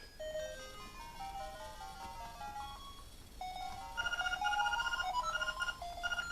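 Chiptune music and beeping sound effects from a Legend of Zelda 35th Anniversary Game & Watch handheld: small, bright electronic melodic tones, growing busier and louder partway through, over faint background hiss.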